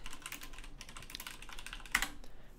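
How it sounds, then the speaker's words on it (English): Fingers typing a search term on a computer keyboard, a steady run of light key clicks with one sharper tap near the end, close and fairly quiet, no talking. "So I would type in acupuncturist."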